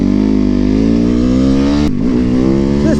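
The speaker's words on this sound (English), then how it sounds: "This YZ450FX, honestly, this is the bike to have out here." Yamaha YZ450FX motorcycle engine running close and loud at a steady high idle, its rich harmonic drone dipping in a brief blip before settling back to the same pitch.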